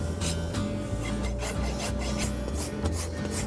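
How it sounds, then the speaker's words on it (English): A hoof rasp files a horse's front hoof during a trim, making continuous close, loud scraping strokes in a steady back-and-forth rhythm with no talk. "I'm dressing the foot to where I found it."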